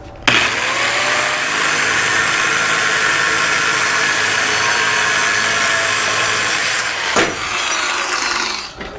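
Power saw cutting metal on a Dakota exhaust, likely the hanger, with one long continuous harsh whine that stops briefly near the end and restarts for a moment before cutting off, close and loud with no speech.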